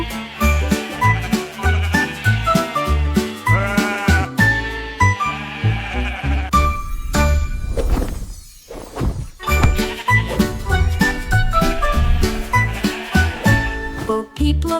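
Cartoon-style sheep bleats ring out repeatedly over a bright, jingly nursery-rhyme music track, loud and close, with a brief whooshing break midway.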